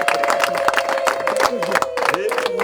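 A Rwandan comedy audience ululates in celebration (impundu) with scattered clapping and crowd noise, a sustained high trilling cry running throughout alongside bursts of hand claps and background chatter.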